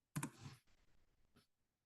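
A few quick clicks followed by light, scattered keyboard typing at a computer, brief and close, with a soft click at the end and no talking.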